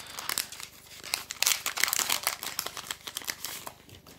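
Pokémon card booster pack wrapper torn open by hand, close bursts of crinkling foil and tearing plastic in irregular clusters, no talk.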